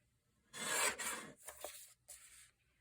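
Paper is trimmed in a craft project, heard as a few close, scratchy rasping strokes separated by short gaps, with no talking.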